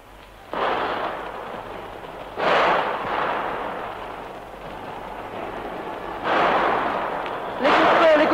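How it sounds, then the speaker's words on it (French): Gunfire crackling in an archival radio report from a church under attack: several bursts of noisy, rattling shots, some near and some more distant, spaced across the recording over a low background. "Les coups de feu crépitent toujours"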